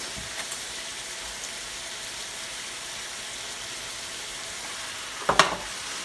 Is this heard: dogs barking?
no